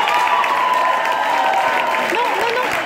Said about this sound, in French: on va accueillir avec un grand applaudissement